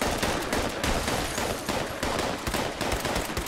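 Dense, continuous gunfire from a shotgun in the Fallout video game, loud and close, with rapid overlapping blasts filling the whole stretch and no talking.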